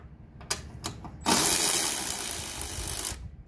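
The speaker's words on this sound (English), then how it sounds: "We are removing the two 10mm bolts for this fuse box to give us just a little bit more room." A ratchet wrench removes 10mm bolts from the fuse box on an Acura TSX: a few sharp clicks, then a longer buzzing ratchet run lasting about two seconds, close up, with no talk.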